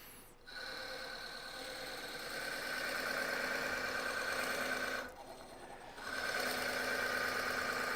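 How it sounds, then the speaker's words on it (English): A 2-inch Forstner bit is driven into maple burl on a wood lathe, giving a steady tonal motor whine with a brief drop in level partway through before the drone resumes. "I'm going to crank the speed down. This is I think a 2-inch Forstner bit."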